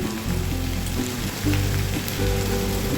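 Potatoes, onion and cauliflower fry in hot oil, a steady close sizzle with a low hum and a few soft stirring knocks throughout.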